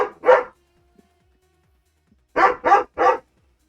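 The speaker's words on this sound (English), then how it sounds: "Whose dog is that?" A dog barks five times in a room, two sharp barks followed after a pause by a quick run of three, close and loud over near silence.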